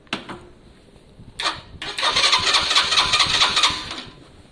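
A Lexmoto Valiant motorcycle, started on choke, gives a few short cranking bursts and then catches, settling into a loud, steady idle close by with no one talking.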